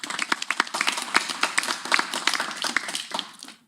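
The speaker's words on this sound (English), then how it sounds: "So a nice round of applause for Beech Grove." A small audience at a library board of trustees meeting claps; sharp individual hand claps come through distinctly, thin and uneven, tapering off near the end.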